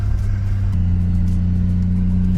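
A Toyota Turbo Supra with a 5-speed gearbox drives along, its engine a loud, steady low drone heard from inside the car, pitch stepping up slightly partway through, with no talking.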